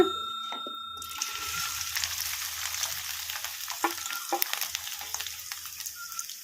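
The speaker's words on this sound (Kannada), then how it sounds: "ಈಗ ಎಣ್ಣೆ ಕೂಡ ಬಿಸಿಯಾಗಿದೆ ಈಗ ಇದಕ್ಕೆ ಹಾಗಲಕಾಯಿ ಹಾಕೋಣ" Bitter gourd dropped into hot oil in a kadai for a garlic fry, giving a broad, steady sizzle with scattered crackles and stirring clatter after a quieter start, close and moderately loud with no talk.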